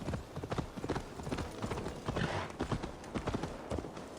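Horse hooves clip-clop in a steady, close rhythm as a mount is ridden in the video game Assassin's Creed Valhalla, with ambient game sound underneath and no talk.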